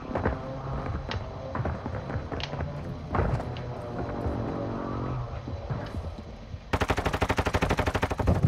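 Automatic gunfire from a gun in Call of Duty, bursts of shots scattered through the first half, then a sustained, evenly spaced loud stream of rounds to the end.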